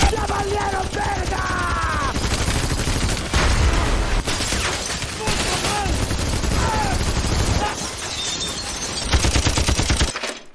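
Heavy weapon gunfire in a film scene fills the clip with rapid, dense bursts and overlapping shots, loud and close, with brief pauses and voices shouting among the volleys.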